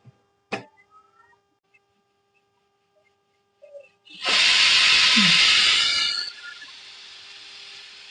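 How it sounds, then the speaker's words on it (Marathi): A pressure cooker of chicken feet broth lets out a loud, sustained steam whistle-hiss lasting about two seconds, then fades to a quieter hiss, after a few earlier clicks and knocks. "आणि आता आपण 4 शिट्ट्या देऊन घेऊया."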